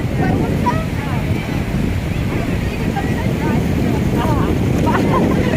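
Sea waves wash in at Dive Agar beach on the Konkan coast as a continuous low roar of surf, heavily buffeted by wind on the microphone, loud and close.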